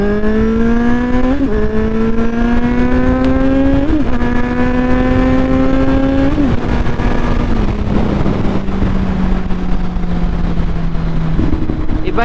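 Kawasaki Z1000R motorcycle with a Black Widow exhaust, de-catted, revving hard through repeated rising pulls and gear changes, loud and close with a steady throaty drone and wind noise.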